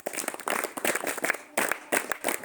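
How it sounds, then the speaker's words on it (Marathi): A small group claps for a quiz show contestant who answered correctly. The clapping is close and irregular and comes in a few uneven bursts that rise and fall, with no cheering. "हिच्यासाठी जोरदार टाळ्या"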